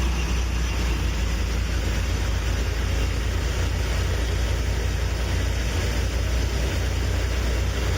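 A Toyota 3.4 engine swap running at a fast, steady high idle, loud and close, with a constant low rumble and no speech.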